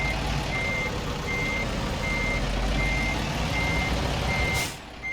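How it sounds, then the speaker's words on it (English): A tractor-trailer backing up in American Truck Simulator gives off steady, evenly spaced reversing beeps over a constant engine rumble, ending in a short hiss of air near the end. "all we're doing is backing up the truck, backing up the tractor"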